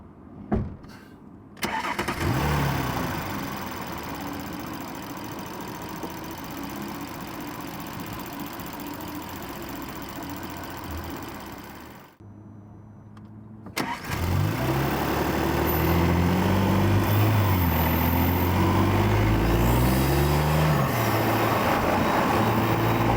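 An Audi S4 B9 engine with stock intake cranks and catches, idles with a rough rumble, cuts off, then starts again and revs up and down in repeated loud surges.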